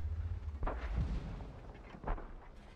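Tank cannon fire in a tank battle video game with a Panther 8,8, two deep booming shots about a second and a half apart, heard over a low engine rumble.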